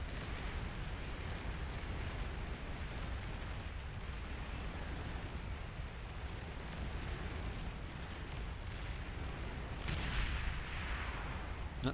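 Continuous rumbling bombing explosions from an air attack in a strategy video game replay, a dense steady roar with a sharper burst near the end, fairly quiet overall.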